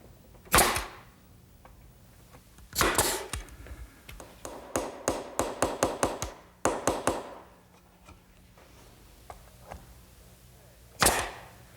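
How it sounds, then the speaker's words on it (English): A 1¼ inch finish nail is hammered into shelves slipped into a dado, giving sharp, near taps: single blows followed by a quick rapid series of strikes, with short pauses between and no talking. "we just slip those in the dado and nail it with an 1¼ inch finish nail"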